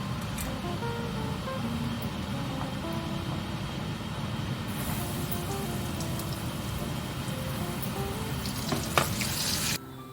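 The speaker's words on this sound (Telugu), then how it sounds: "మనకు క్రిస్పీ శనగలు వేపుకున్నామండి." Chickpeas fry in a pan until crispy, giving a dense, continuous sizzle with faint crackles and occasional stirring clinks, close and steady before stopping abruptly near the end.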